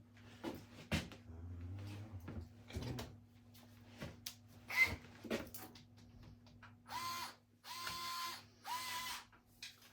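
A 2.5 millimeter hex key tightens small screws on an airsoft rifle barrel assembly, making close, quiet clicks and ratcheting scrapes in short bursts, followed by several louder buzzing mechanical whirs near the end, with no speech.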